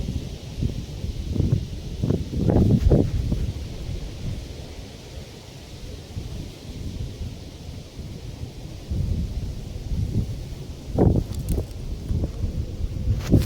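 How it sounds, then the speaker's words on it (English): Gusting wind blowing outdoors, a steady rushing roar with stronger swells and buffeting on the microphone, continuous throughout with no talking. "Here's the wind."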